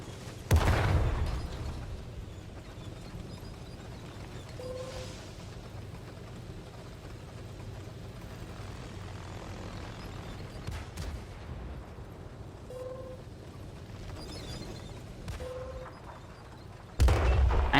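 Artillery fires in the console version of World of Tanks, with a loud boom near the start and another at the end, separated by a long stretch of quieter rumble and occasional distant pops.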